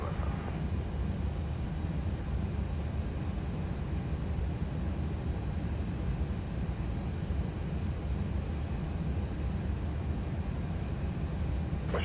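An airplane taking off from runway 23: a constant, broad engine roar and rushing noise holds steady at moderate volume throughout, with no clear breaks.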